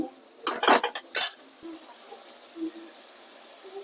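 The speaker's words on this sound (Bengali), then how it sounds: "দেখো ডিমটা কষছে কষাচ্ছি" Egg is stirred and sautéed in a pan. A quick burst of metal spatula clanks against the pan is followed by faint scraping and soft sizzle.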